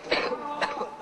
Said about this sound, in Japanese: ステージで見せた咳き込む姿、